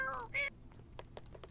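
A blue cat meows twice in The Sims 4 at a veterinary clinic, a short tonal cry followed by a higher one, with faint clicks and quiet game sounds trailing after.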